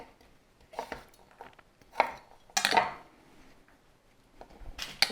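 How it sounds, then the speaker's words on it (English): A knife chops root vegetables on a board in irregular bursts, sharp close thuds and clacks separated by short quiet gaps. "I want to cut them in similar size so that they cook evenly"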